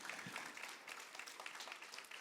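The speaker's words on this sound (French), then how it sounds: "Je vais vous demander un applaudissement nourri pour nos intervenants." Faint, steady applause from an audience at a panel discussion on disability sport, a distant wash of clapping with no voices over it.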